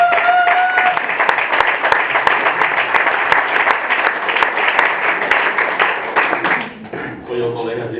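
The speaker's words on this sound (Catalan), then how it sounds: "Doneu-li un aplaus al Pau" An audience at a live anniversary comedy and music show claps steadily for a performer, dense close applause that tapers off near the end, with voices mixed in.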